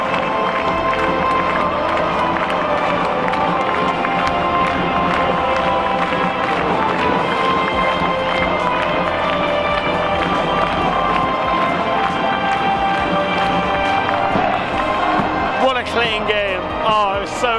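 Football ultras in the stands at a Kobe match, with a dense, loud crowd roar and cheering that holds steady throughout, heard close and full.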